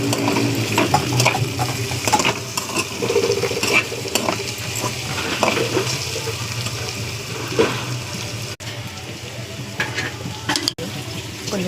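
Potatoes fry with chilli powder and salt while a spatula stirs and scrapes the pan repeatedly, over a constant close sizzle with a few sharp clicks near the end.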